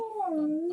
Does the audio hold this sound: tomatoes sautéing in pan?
no